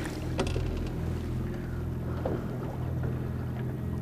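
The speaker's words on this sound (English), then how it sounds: "Get on the trolling motor." A boat's trolling motor runs with a steady low drone and faint hum under light water and wind noise, close and continuous throughout.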